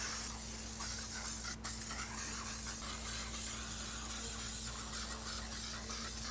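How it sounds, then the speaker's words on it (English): Aerosol engine cleaner hisses steadily from a can onto a plastic engine bay cover, a continuous close spray with a brief pause midway and a low steady hum beneath it. "the plastic cover, any of the components and things like that, we're gonna spray this onto"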